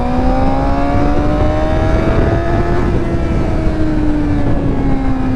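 A Suzuki GSXR 600 motorcycle accelerates in second gear, its engine note rising loud and close over heavy wind roar, then leveling off.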